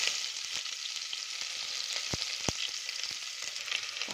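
Onion frying in hot oil with cumin in a pressure cooker, a steady close sizzle broken by a few sharp pops and light stirring scrapes, no voices.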